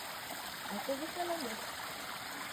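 A clear mountain river stream flows steadily at a campsite, a soft continuous rushing wash with faint gurgles, heard alone without talk.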